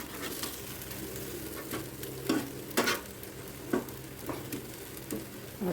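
Chicken grilling on a hot grill gives a steady close sizzle, with several sharp scraping clatters as the pieces are turned over, and no talk.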